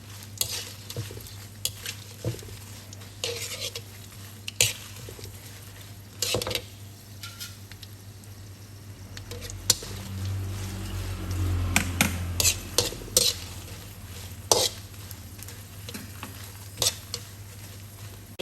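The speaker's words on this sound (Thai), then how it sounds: "ทอดไม่ต้องไฟแรงนะคะ ทอดไฟอ่อนๆ ทอดให้เหลืองกรอบเลยนะ" Chilies fry gently in oil over low heat, a soft continuous sizzle with frequent ladle stirs and clinks against the pan. It is close and fairly quiet, with no talking.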